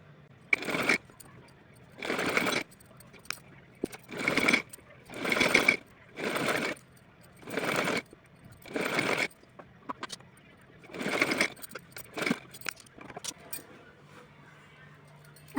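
A sewing machine stitches the edging on a small Laddu Gopal doll dress in about ten short bursts of fast whirring, each a second or so long, separated by quiet pauses and faint handling clicks.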